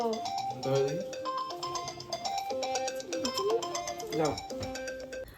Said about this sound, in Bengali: এ বাবা কি বাজে সময় ফোনটা এলো